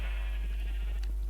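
A Minecraft sheep bleats briefly over a steady low hum, with a wavering tone lasting about a second before a short fade.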